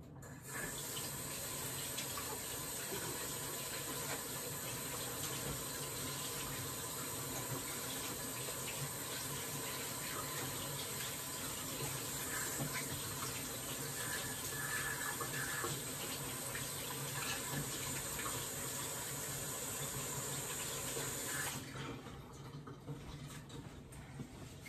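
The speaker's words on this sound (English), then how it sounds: "I need to wash my hands" Steady running water from a kitchen tap as hands are washed at the sink, a continuous close splashing hiss that lasts about twenty seconds before cutting off near the end.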